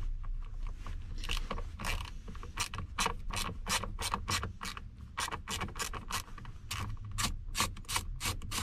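A screwdriver turns screws out of the steering column trim on a 2014 Ford F250 Super Duty, giving a close run of rapid ratcheting clicks and scraping rubs, fairly quiet and without talk.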